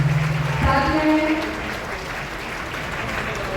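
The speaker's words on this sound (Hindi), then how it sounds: "मंच पर बुलाकर 2000 तालियों के साथ स्वागत करेंगे" A crowd applauds to welcome Governor Mangubhai Patel as chief guest at the closing ceremony of a trade fair, a dense, sustained clapping that starts under a brief voice and then continues alone.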